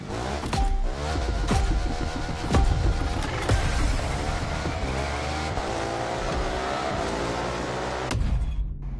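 A BMW R1200 GSA motorcycle in The Crew Motorfest racing game roars with a steady, loud engine drone, rising and falling with throttle changes over continuous mechanical noise and a few sharp knocks, cutting off abruptly near the end.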